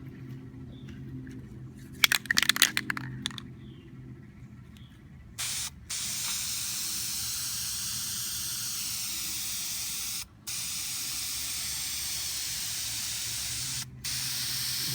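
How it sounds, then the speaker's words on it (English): Spray gun laying a heavy coat of 2K primer during a 1974 Ford F100 restoration: some handling clatter first, then a loud continuous hiss of spraying broken by a few brief pauses. "put some 2K primer on top of it"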